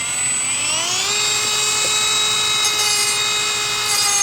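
Bench grinder wheel grinding steel stock for a handmade survival axe tool, a steady high whine with rising tonal harmonics as the steel meets the wheel, continuous and close with no talk.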